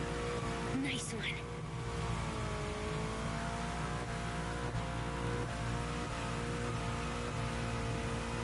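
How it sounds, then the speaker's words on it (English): Car engine in The Crew Motorfest racing game, revving high and bouncing against the rev limiter with steady droning harmonics and brief dips, while a voice talks over it. "That's that rev limiter"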